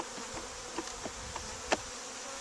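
Honeybees buzz around an open hive during an inspection, a soft continuous drone with several brief louder buzzes as individual bees fly close past.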